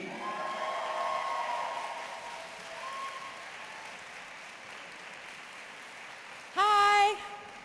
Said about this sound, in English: please give me a massive round of applause for the lady who we currently see on The Flash as Jessie Quick